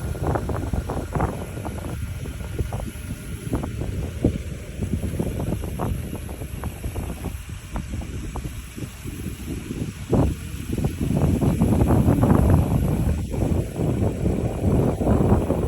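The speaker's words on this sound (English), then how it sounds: "This is corn, ripe for the harvest, blowing in the wind." Wind sweeps across a ripe Midwest corn field at harvest time, gusting and rustling with heavy buffeting on the microphone that swells louder toward the end.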